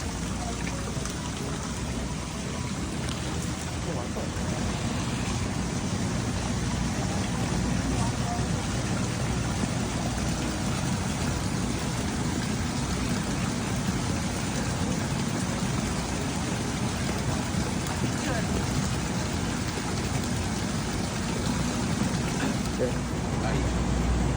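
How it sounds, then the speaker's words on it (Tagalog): Steady rain pours without a break for the whole stretch, a dense even hiss with soft low rumble, continuous and close, with no voices standing out above it. "Ulan na."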